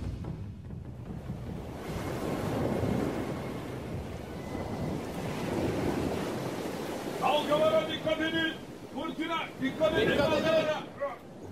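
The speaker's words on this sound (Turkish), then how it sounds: "Dalgalara bakın, gemiye nasıl vuruyor." Storm waves crash and surge against a ship at sea amid gusting wind, a rolling continuous roar, while a voice shouts over the noise.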